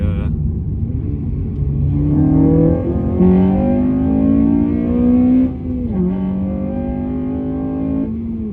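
A Honda FN2's 2-litre K20 engine pulls hard and climbs in pitch through two long revving surges, loud and close, with a smooth continuous drone.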